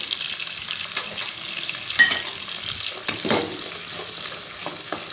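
Onion and split garlic fry gently in a pan for a dried ghee-fish curry, giving a soft, close sizzle with scattered stirring clinks and scrapes at uneven intervals.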